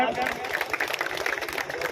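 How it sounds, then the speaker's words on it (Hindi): Dense applause from a crowd welcoming the MLA at a canal renovation event, a steady patter of many clapping hands with a voice over it. "जोरदार तालियों के साथ स्वागत।"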